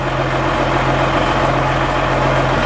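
The diesel engine of a 1996 Caterpillar D250E articulated dump truck drones steadily and loudly up close as the bed is raised, a constant low hum without pauses or voices.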